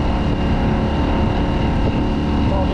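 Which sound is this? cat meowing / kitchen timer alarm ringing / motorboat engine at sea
motorboat engine at sea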